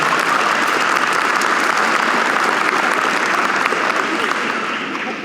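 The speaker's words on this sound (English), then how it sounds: "Give yourself a round of applause." A crowd at the Wisconsin Aviation Hall of Fame 2025 event applauds its silent auction fundraising, dense loud clapping sustained throughout and tapering slightly at the end.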